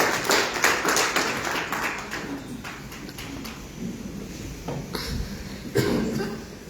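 Church congregation applauding after a scripture reading, a scattered, patchy clapping of many hands that swells and thins over several seconds, moderately distant, with some faint voices underneath.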